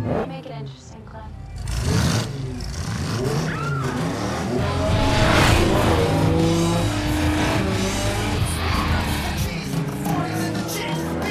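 Street race cars in a Japanese Yakuza film roar and accelerate, engines revving loudly over a continuous mix of tire squeal and rushing motor noise, with a narrator's voice running underneath.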